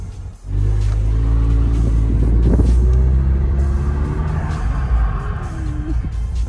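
A Ford EcoBoost car revving and pulling away on snow, its engine a loud, close, steady droning rumble that holds for several seconds after starting abruptly.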